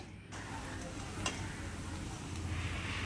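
Onions fry in hot oil in a pan for a fish dish, giving a steady, even sizzle with a faint tick or stir partway through and no voices.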